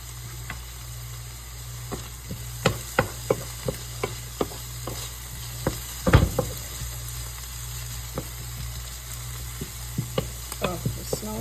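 Food stirred in a hot pan on the way to caramelizing, a steady close sizzle broken by sharp scraping clicks of the spoon, with a louder clatter near the middle.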